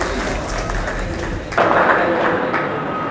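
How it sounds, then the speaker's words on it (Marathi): Audience clapping at a book launch, a dense wash of applause that swells louder partway through and carries on steadily to the end. "जोरदार टाळ्या झाल्या पाहिजे प्रिय रामूची"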